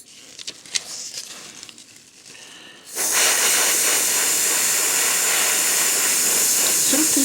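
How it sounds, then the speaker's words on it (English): Blue spray paint hisses from an aerosol can across a surface prepared with salt and hairspray, starting after a few seconds of quiet rustling and then running as a loud, steady, close spray to the end. "Simply spraying the whole surface now in blue."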